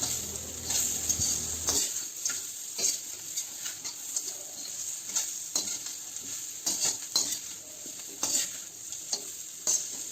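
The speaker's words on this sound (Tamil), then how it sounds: "இது பாருங்கள், காடையை நான் போட்டு நல்லா கிளறி விடுங்க" Quail pieces with onions frying in a pan for kaadai varuval, a continuous bright sizzle with repeated close scraping stirs of the spoon throughout.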